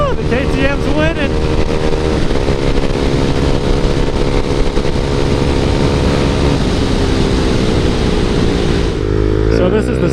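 A KTM cafe racer motorcycle with the same engine as the 390 Duke accelerates hard, its loud, buzzy exhaust note climbing through the gears in a continuous, close roar that eases off near the end.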